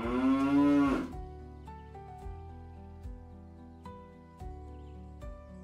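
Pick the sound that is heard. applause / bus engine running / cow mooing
cow mooing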